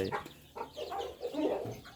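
Backyard village chickens in a home coop on a weekend morning, with a hen of a large Thai breed, cluck and call in a busy overlapping chorus, close and moderately loud, with no talking.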